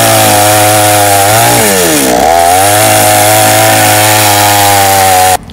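A chainsaw cuts through wood during construction of a pigsty, running loud and steady for about five seconds with a brief pitch dip as the engine bogs in the cut, then stopping abruptly.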